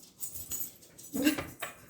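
A dog whimpers and whines to be let out, with short high cries in brief bursts and a fuller whine near the middle, faint and close indoors.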